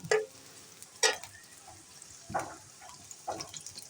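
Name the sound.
chopped onions frying in hot oil in a wok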